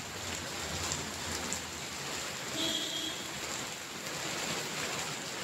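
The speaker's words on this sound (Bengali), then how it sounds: "ওই দূরে ল্যাম্পপোস্টে আলোয় দেখা যাচ্ছে কি বৃষ্টি পড়ছে" Steady evening rain falls in a soft, even hiss outside a cafe in Patuli, South Kolkata, continuous and moderately distant, with no voices.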